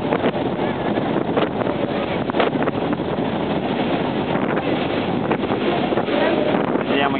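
Strong wind buffets the microphone aboard a moving Costa cruise ship at sea as a helicopter approaches for a medical evacuation, a steady loud broadband roar lasting throughout with no clear pauses.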